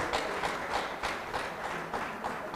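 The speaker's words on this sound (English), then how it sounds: "Big applause to them." Audience at a Rwanda moot court competition on international humanitarian law claps together in a soft, steady patter of many hands, heard at moderate distance with no talking over it.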